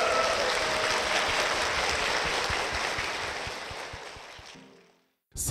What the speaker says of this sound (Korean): 우리 두 분께 힘찬 축복의 박수